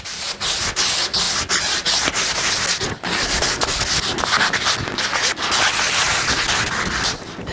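A short wooden bow sanded by hand with sandpaper, giving a steady, loud, close rasping rub with brief pauses throughout and no speech.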